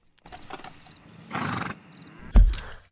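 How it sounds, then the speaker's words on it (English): A buttermilk buckskin Kentucky Saddler horse in Red Dead Redemption 2 stands nearby, giving soft snorts and shuffles, then one sharp louder burst near the end that could be a snort or brief whinny. "here's a stray buttermilk buckskin Kentucky saddler just asking to come home with us."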